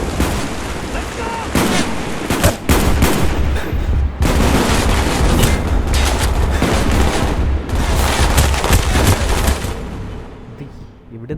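Gunfire in the Call of Duty: Black Ops Hong Kong mission, dense bursts of rapid automatic shots and heavy bangs almost continuous and loud, with voices talking underneath.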